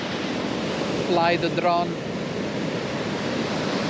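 Ocean surf rolls onto a beach in Phuket, Thailand, as a steady close wash of waves mixed with wind noise on the microphone, while someone speaks briefly over it.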